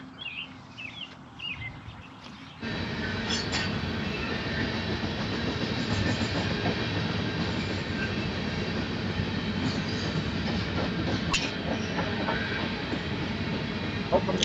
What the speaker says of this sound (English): Help from the train, maybe?